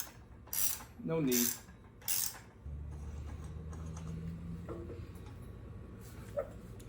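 An accessory drive pulley on a Holley LSA kit is pressed on with a pulley installer tool, starting with a few sharp ratcheting and scraping bursts, then a low steady grinding hum from the tool, with a brief spoken remark.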